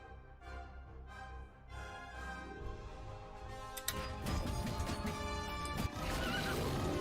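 A horse whinnies in The Dwarves video game, a drawn-out neigh up close, followed by a busier stretch of hoof clatter and clanking game effects.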